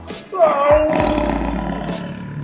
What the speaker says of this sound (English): he roared very loud. Roar!